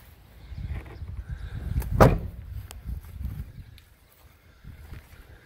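The passenger-side door of a 2008 Dodge Ram 1500 SXT pickup gives one solid thump about two seconds in, with soft handling rustles before and after.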